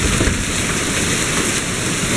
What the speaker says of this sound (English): Do you hear that? It's hailing.